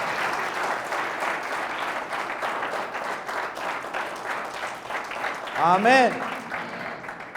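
A church congregation claps for God in sustained, dense applause that fills the room, and near the end a voice calls out briefly over the clapping.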